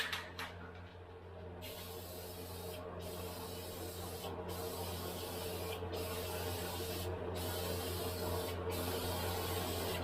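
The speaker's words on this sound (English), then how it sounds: "The can says it can be reapplied at any time, so just want to give it a minute or two in between coats." Spray paint hisses from an aerosol can in several bursts, with short pauses between them, as coats go onto a Mazda Miata's dash and interior. The sound is close and steady, and no one speaks.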